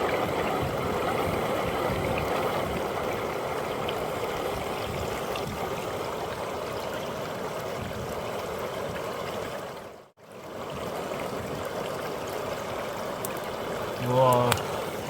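River water flows steadily around a drop riffle sluice box during a gold prospecting test, a broad continuous rush close to the microphone with a brief dropout partway through and a small splash near the end.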